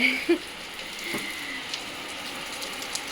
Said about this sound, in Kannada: ಈ ಮಳೆ ಅವಸ್ಥೆ ನೋಡಿ, ಮಳೆ ಬರ್ತಾ ಇದೆ.